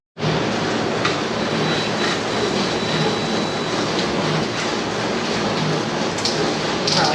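Steady, loud whirring drone of a drill spinning the oil pump to prime a Jeep 4.0 engine's oil pressure, running continuously from start to finish with no pauses.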